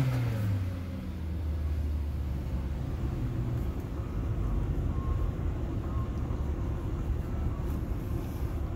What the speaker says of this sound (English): Car runs great.